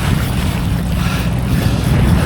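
A Yellowfin 7000HT trailer boat's outboard drones steadily as it drives out on the water, a low continuous engine hum mixed with rushing water and gusty wind noise on the microphone.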